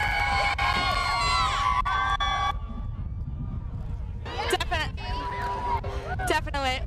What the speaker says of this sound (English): And look at this crowd.